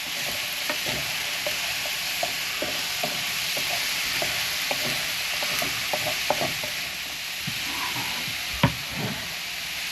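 Chicken stir fry sizzling steadily in a pan while a utensil stirs it, giving repeated light scrapes and taps over the hiss and one louder clack near the end, with no talking.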